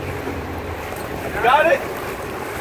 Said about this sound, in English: It's really windy. I apologize for the wind